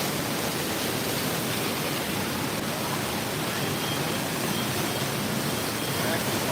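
An indoor waterfall at the Wonders of Wildlife attraction gives a steady, broad rush of falling water that fills the whole stretch evenly and holds near and constant throughout.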